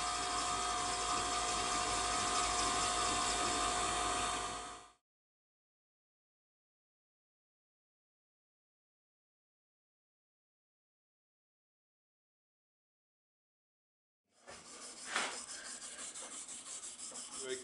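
Fine-grit sandpaper, around 320 grit, rubs against a turned pen on a lathe with a steady, close, continuous hiss, then stops for a long silence and starts up again near the end.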